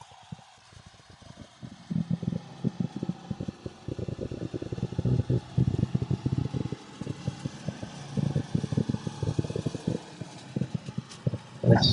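A 1990 Suzuki mini truck labours up a steep hill in fourth gear, its engine droning steadily beneath dense rattling and clattering from the cab, loud and close throughout.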